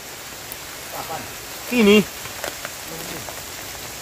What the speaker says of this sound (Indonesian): Hujan angin bahaya ini.